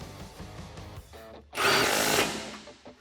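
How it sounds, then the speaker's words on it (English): A 13mm socket drives a bolt home on a Barricade HD running board fitted to a 2-door Jeep Wrangler JL: one loud, whirring mechanical burst of under a second, rising over background music and then fading. "Grab your 13mm socket and tighten this down."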